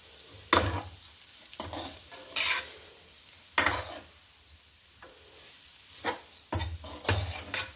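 Grated coconut and dondakaya curry being stir-fried in a pan, repeated scraping strokes of a spatula against the metal over a soft sizzle, in irregular bursts, close and clear.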